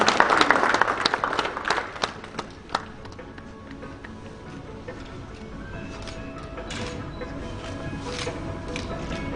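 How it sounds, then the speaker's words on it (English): A press conference audience claps for an annual cricket match event, the applause loudest at the start and then thinning into scattered, irregular claps that fade toward the end. "I'm sure you can do a louder, more energetic round of applause, please."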